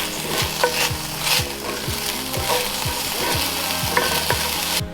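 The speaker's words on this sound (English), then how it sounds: "Get my zucchini cut up so it can saute in there for a few minutes." Chopped zucchini sautéing in a pan with onion, a loud continuous sizzle broken by repeated scraping stirs, heard close with no talking.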